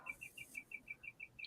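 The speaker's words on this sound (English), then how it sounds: "You hear those birds chirping outside?" A bird repeats a short high chirp about every fifth of a second, steady and rhythmic, faint against a quiet background.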